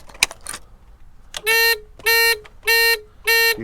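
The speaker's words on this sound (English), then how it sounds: "You can hear the buzzer." Indicator buzzer on a Honda Deauville 650 motorcycle sounds in four evenly spaced, loud tonal beeps after a couple of faint clicks, close to the microphone with no talking.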